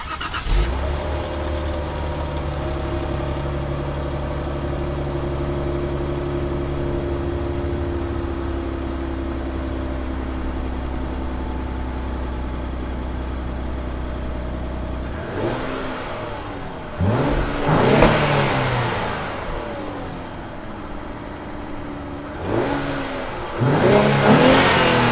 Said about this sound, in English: The next step up is this 3-liter twin-turbo V6 engine.